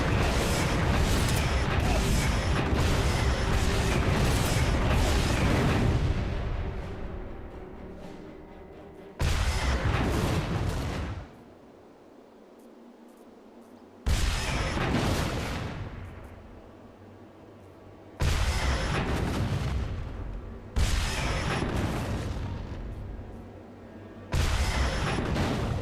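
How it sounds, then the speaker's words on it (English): Grenade launcher explosions in the video game Captain America: Super Soldier, five loud booming blasts in an irregular rhythm, each with a long rumbling decay, separated by brief quieter stretches of game background. "Captain America using a grenade launcher."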